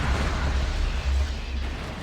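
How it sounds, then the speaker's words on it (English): Doom bolt explosions in the real-time strategy game Dawn of War 2 give a loud continuous low rumble with crackling bursts and roaring blasts that swell and ease over two seconds. "Doom bolts."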